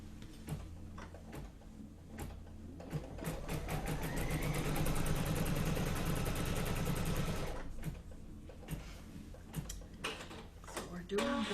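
A sewing machine stitches down fabric for a candy corn quilt background, running in a steady whir for several seconds in the middle, bracketed by handling clicks and quiet pauses.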